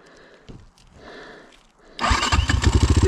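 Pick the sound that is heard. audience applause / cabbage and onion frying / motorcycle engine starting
motorcycle engine starting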